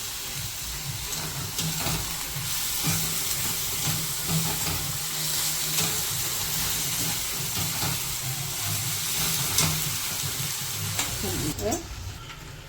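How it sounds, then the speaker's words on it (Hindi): Chili and turmeric frying in a pan, a loud continuous sizzle with a steamy hiss and repeated scrapes of the spoon as the food is stirred, a faint voice now and then. "इसको चलाऊंगी और इसको अच्छी तरह से भूनने दूंगी।"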